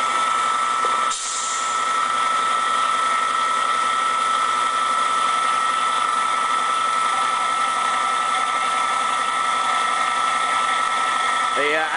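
A cold saw runs through a cut in a metal workshop, a steady loud whining drone with a short clack near the start and a mechanical shift at the end.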